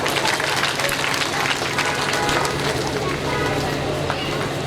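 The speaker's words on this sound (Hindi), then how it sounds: "एक बार फिर तालियां।" Audience applause at a Shrimad Bhagwat Gyan Yagya gathering in Kunaira, Etawah: dense, continuous clapping at close range, with faint voices mixed underneath.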